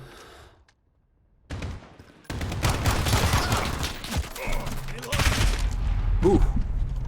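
Call of Duty: Modern Warfare (2019) open beta gunfire erupts after a near-silent start, with dense bursts of automatic shots and game effects running loud for several seconds, mixed with a voice.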